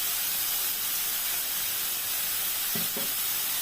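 Curry masala sizzling steadily in a hot pan as it is sautéed, a continuous close hiss with a couple of brief stirring knocks near the end, and no voices.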